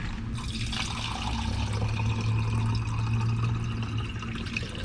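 Water runs steadily from a tap while a container is filled in a Walmart parking lot, with a low engine-like hum and background noise underneath throughout.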